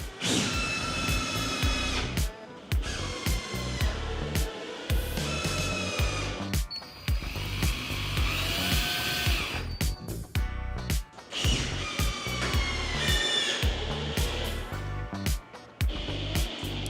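A power driver screws down a Korniche roof lantern, whirring in repeated close, loud bursts with short gaps as each screw is run in, alone without talk.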